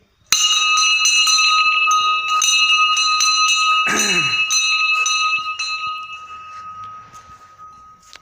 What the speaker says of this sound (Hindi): और ये रही हमारी घंटी